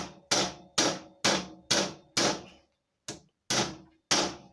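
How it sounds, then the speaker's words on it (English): A puller works as a slide hammer on a motorcycle fork taper during a Bantam D7 front-end rebuild, striking eight sharp metallic blows in a steady rhythm with a short pause before the last three, each ringing briefly and close. "I'm going to do is I'm just going to use it as a kind of a slide hammer"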